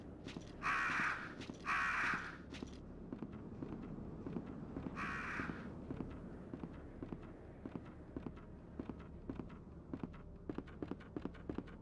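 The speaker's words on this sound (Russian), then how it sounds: "Не могу пройти и не злить ворон." Crows caw in three short bursts in the video game Resident Evil 2, followed by steady, rhythmic footsteps over a low ambient drone.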